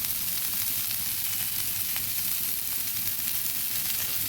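Bitter gourd and potato fry in a pan with a steady, close sizzle of hot oil and faint occasional stirring scrapes, with no voices.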